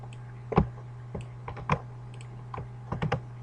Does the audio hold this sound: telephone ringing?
no